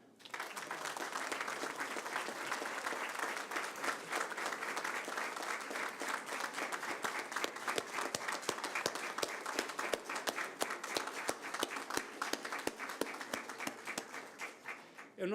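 An audience at a justice ceremony gives sustained applause to minister Celso de Mello, steady clapping throughout that grows sharper and more distinct toward the end.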